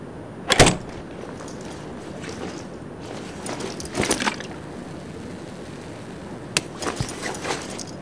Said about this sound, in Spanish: Cerrá la puerta, boludo, cerrá la puerta.